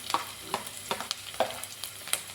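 Sliced onions and long-cut green chillies stir-fry in a hot pan, a soft sizzle broken by regular spatula scrapes and taps roughly every half second, close and without talk.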